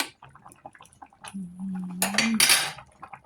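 Metal lid set down on a pot of Thai sour curry with fish, bamboo shoot and mango, a brief clatter and ringing clink of metal after a low hum, close by.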